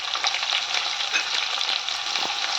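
Onions fry in oil with spices for plain khuska pulao, a loud close crackling sizzle with quick stirring scrapes throughout, no speech.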